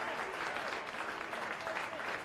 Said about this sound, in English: great applause for the young star, Dominic Crescetto